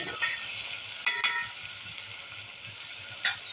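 Chopped onion pieces frying in an oil-filled pan, a steady crackling sizzle with brief stirring scrapes, close and continuous throughout.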